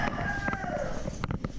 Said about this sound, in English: my friends the roosters had no issue with waking me up early this morning